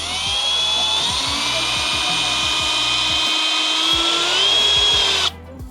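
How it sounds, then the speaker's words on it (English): A power drill with a small bit whines at high speed drilling a pilot hole while fitting fog light covers on a 2024 Land Cruiser, close and continuous for about five seconds, pitch shifting slightly as it bites, then stops abruptly. "line it up and drill your pilot hole"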